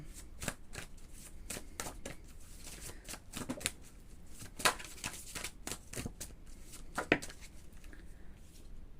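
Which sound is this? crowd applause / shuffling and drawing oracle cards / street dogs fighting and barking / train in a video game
shuffling and drawing oracle cards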